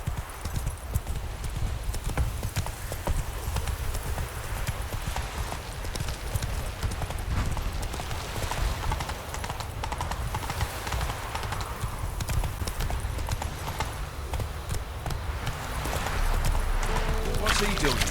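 Hooves clip-clop steadily as a horse gallops in The Witcher 3, a continuous rhythmic beat running the whole time with a brief whinny and someone talking over it.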